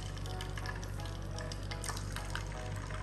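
Chicken pieces for pandan fried chicken sizzle steadily in hot oil, a dense, continuous crackling hiss that stays close and loud throughout.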